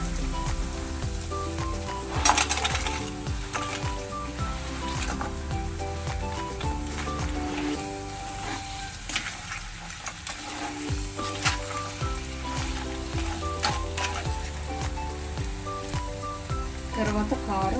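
Crabs frying in a pan for crab curry give a steady, continuous sizzle throughout, with music playing over it and a voice talking now and then.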